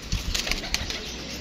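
Pigeons released in a flight contest, heard as a short flurry of soft flapping wingbeats with faint cooing, fairly close, over a low rumbling background.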